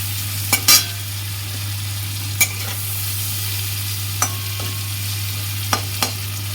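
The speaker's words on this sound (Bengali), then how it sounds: "নুন হলুদ দিচ্ছি, মশলাটা একটু সামান্য ভাজবো," Spice paste with salt and turmeric frying gently in a pan for a light rohu fish curry, a steady low sizzle with a few sharp spatula taps against the pan, close and without talk.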